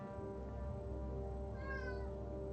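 A cat meows once, a short rising-and-falling cry heard midway through over a steady background hum and low rumble, with no one talking.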